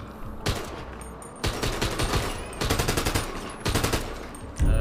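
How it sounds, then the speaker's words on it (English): Military rifle fire in a video game sound mod comes in four separate bursts of fast automatic shots, each loud and close, with short pauses between them and no voices. "Alright, military rifle."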